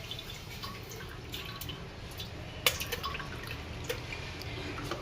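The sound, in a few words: throwing away soaking water from lentils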